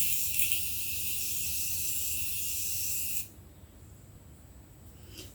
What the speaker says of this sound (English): To set my face, I'm going to go in with the Morphe Continuous Set and Mist